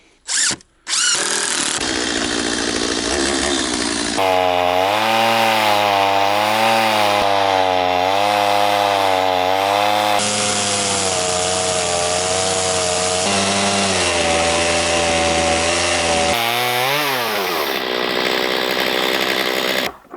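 A chainsaw fitted with a crosscut chain rips lengthwise through wood, running loud and close for a long stretch after a brief rev, its engine pitch wavering and shifting as the cut loads and eases, with no talking.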